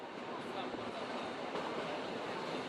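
A big green train rolls along the rails past a little village, a steady, dense rumble close by with a constant roar and no distinct clatter.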